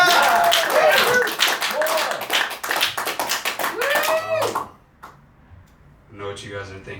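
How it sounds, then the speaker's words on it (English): A stand-up comedy audience claps loudly and rapidly for several seconds, mixed with shouting and cheering voices, before the applause drops off and a lone voice speaks. "And can you guys clap?"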